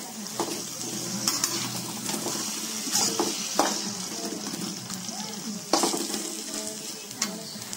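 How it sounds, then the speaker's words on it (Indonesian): Chicken sizzles steadily while being stirred in a pan of green chili sauce, Bukittinggi style, with a constant close frying hiss. Scrapes and utensil clinks against the pan are heard throughout. "Kita aduk terus sampai merata matang ya."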